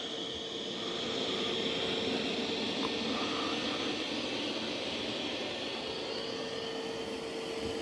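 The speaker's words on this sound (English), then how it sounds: "But it is doing an excellent job vacuuming." A Dreame Matrix 10 Ultra robot vacuum cleans the floor in a home with huskies, giving a steady, even whirring hum at moderate distance that holds throughout with no voices.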